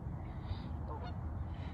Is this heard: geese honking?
yes